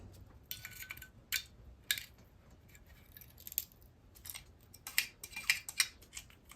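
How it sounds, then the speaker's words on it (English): Wire snips pry and bend a loose part inside an electronic switchbox, making scattered sharp metallic clicks and short scrapes in bursts, with quiet gaps in between. "I'm gonna take the wire snips and see if I can help bend it back a bit."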